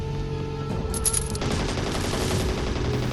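Gunfire erupts in the Scarfall 2.0 video game: rapid, continuous bursts of automatic fire take over after a brief quieter lead-in and stay dense and loud to the end.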